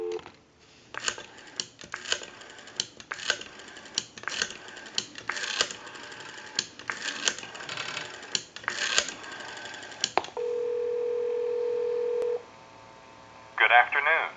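Western Electric 302 metal rotary desk telephone being dialed, with a run of rapid clicking pulse bursts through the receiver, then a steady tone for about two seconds and a brief sound at the end.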